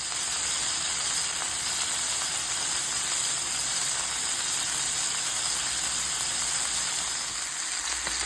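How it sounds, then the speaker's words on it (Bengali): Red fish frying in olive oil in a pan, a continuous bright sizzling hiss that stays steady and loud throughout with no talk over it. "আমি অলিভ অয়েল দিয়ে মাছগুলাকে প্রথমে অলিভ অয়েল তেলটার মধ্যে দিলাম দিয়ে মাছ মাছগুলা একটু ফ্রাই হয়েছে এক পাশে"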